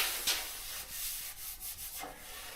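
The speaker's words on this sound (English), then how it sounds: "rubbing your hand over it and feeling it" A hand rubs over body filler on a rusted Peugeot 206 wing, giving a soft, continuous dry scuffing with a few brief sweeping strokes, close and fairly quiet, with no talking.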